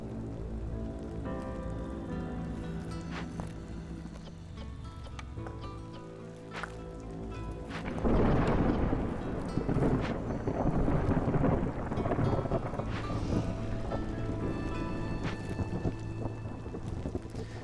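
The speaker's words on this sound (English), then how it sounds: "So this is going to be a particularly tough storm." A heavy storm from the video game Against the Storm plays out as steady rain drums on surfaces, and a loud roll of thunder breaks in about halfway through and rumbles on under the continuing downpour.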